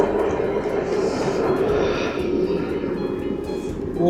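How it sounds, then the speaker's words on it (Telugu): A double-decker train pulls into Kutaisi Airport station, a loud steady rumble and hum of the arriving cars filling the whole stretch, with a faint voice in the background. "మన ట్రైన్ మన కళ్ళ ముందు రానే వచ్చేసింది."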